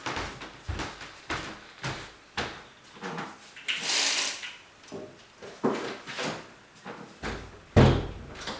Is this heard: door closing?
yes